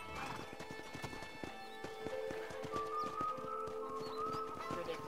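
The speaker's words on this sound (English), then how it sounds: "That ranch hand said there's a pack of wild horses nearby." Wild horses in the Red Dead Redemption video game gallop with steady clip-clop hoofbeats and give a whinny at the start, with quiet game sounds and faint chirps in the background.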